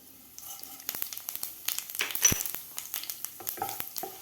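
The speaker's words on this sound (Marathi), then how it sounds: "कढाईमध्ये मी तीन चमचे तेल घातलेलं आहे आता यामध्ये घालायचे आपल्याला अर्धा चमचा जिरे" Cumin seeds sizzling in three spoons of hot oil in a kadhai, a fairly quiet, crackly frying hiss with rapid small pops and ticks, rising slightly midway and continuing steadily.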